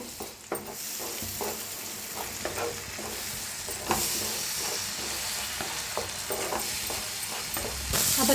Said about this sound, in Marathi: छान भाजा लागलेला आहे तंबाटू कांदा